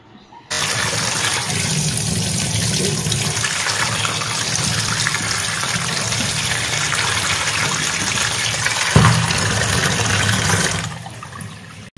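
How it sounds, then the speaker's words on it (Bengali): Tap water gushes steadily while small fish are rinsed in a kitchen, a continuous loud rush that starts abruptly, holds with a brief splash near the end, then cuts off. "আমার মাছ ধোয়া কমপ্লিট হয়ে গেল"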